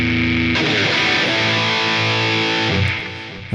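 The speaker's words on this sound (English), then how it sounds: "We're gonna try the distortion pedal, the new one, the legendary drive" An electric guitar plays sustained, heavily distorted chords through the Legendary Drive distortion pedal on a Line 6 HX Stomp, loud and close, with a chord change partway through and the sound fading near the end.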